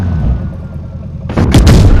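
In a tank video game, a sharp, loud explosion bursts out after a quiet rumbling stretch, followed by a rolling boom near the end.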